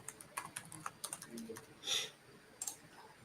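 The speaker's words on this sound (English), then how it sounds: "Let me type the password." A password is entered on a computer keyboard with quiet, close keystroke clicks in an irregular pattern, several quick taps, a short pause, then more taps, with low voices faintly in the background.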